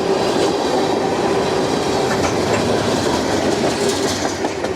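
CSX freight train M647 rolls south on the Henderson subdivision near Sebree, Kentucky, its railcars clattering steadily and loudly with continuous wheel-on-rail clickety-clack close by, no voices.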